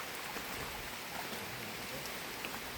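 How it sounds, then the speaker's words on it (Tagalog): Rain falls steadily at a cave in Apayao, Philippines, a soft, even patter of drops on surfaces heard from a short distance, faint and continuous with no talking. "it's raining"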